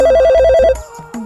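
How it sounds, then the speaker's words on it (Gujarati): A telephone rings loudly with an incoming call, a rapid warbling electronic trill that repeats for under a second, then stops and leaves quiet room sounds. "ઓહો લે આ તો મારા શું પુત્રનો ફોન આવ્યો લે"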